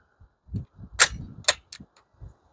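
Handgun shots fired through a Dead Air Primal suppressor, including .45 ACP, crack out as two sharp suppressed reports followed by a fainter third snap and light mechanical clicks, close by with no talking.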